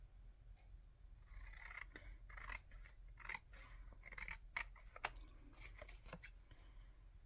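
Scissors snip through paper for an altered playing card project in a quick series of sharp, close cuts over faint room hiss.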